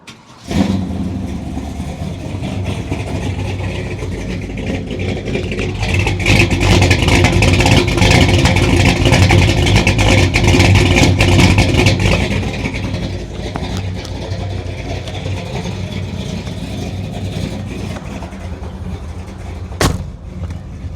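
A 1989 squarebody crew cab short-bed truck with a fuel-injected 502 big block engine drives along, a loud continuous engine drone that swells under acceleration midway and then settles to a steadier cruise.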